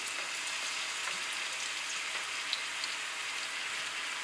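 Garlic softening gently in a pan for a Mantua-style pike sauce gives a soft, even hiss and light crackle, steady and fairly quiet throughout, with no speech.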